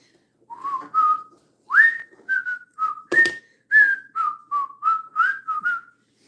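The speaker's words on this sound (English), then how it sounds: "Who am I whistling to?" A person whistles a short, bright tune at close range in a kitchen, a series of clear sliding and held notes, with no talking.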